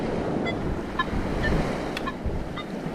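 Waves washing in at the water's edge of a Long Island inlet, a steady close wash of surf mixed with wind noise on the microphone and a few faint high tonal chirps.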